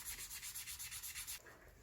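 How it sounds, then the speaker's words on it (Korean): A leather pen case edge is rubbed with sandpaper in quick, steady back-and-forth strokes, close and crisp, about ten even passes before stopping. "한번 사포질을 해볼게요."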